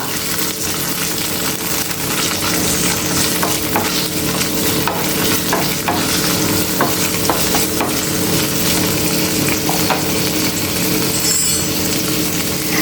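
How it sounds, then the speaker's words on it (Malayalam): Chopped onion and tomato sauté in a pan for a spinach-stem sambar, a steady close sizzle with occasional stirring scrapes and clinks throughout, no voices. "അതിലേക്ക് ഒരു സവാള അരിഞ്ഞതും ഒരു തക്കാളി അരിഞ്ഞതും കൂടി ഇട്ട് കൊടുക്കുന്നുണ്ട്. അതൊന്ന് വഴറ്റിയെടുക്കാം."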